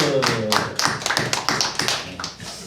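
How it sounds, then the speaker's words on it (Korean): A church congregation breaking into applause, many hands clapping together in a dense, lively burst that fills the room for a few seconds. "우리 박수로 감사를 드립니다"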